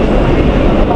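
A Kolkata Metro train rumbling into the station, a loud, steady low roar of wheels and carriages close by, with faint voices in the background.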